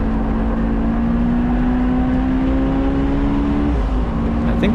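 A supercharged Honda S2000 engine drones steadily through a track lap, a sustained loud tone holding high and even with a brief shift near the end, no voices present.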